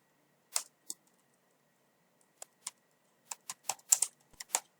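Sparse clicks of a computer keyboard as Java code is typed, a few isolated keystrokes followed by a quick cluster of taps, close and quiet in an otherwise silent room.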